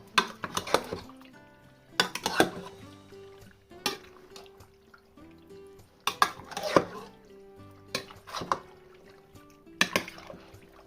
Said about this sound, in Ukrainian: беремо, звичайно, там лопатку, ложку і інтенсивно все перемішуємо